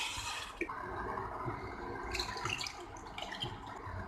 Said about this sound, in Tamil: இப்போ இதில் நம்ம தண்ணி சேர்த்திடலாம்.